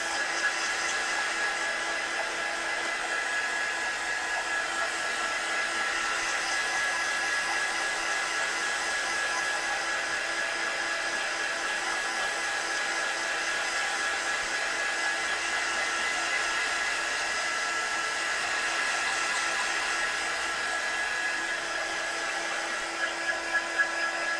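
A hair dryer blows steadily on a painted grunge canvas to dry it, making a constant close whine and rush of air that barely changes from start to finish, with no talking.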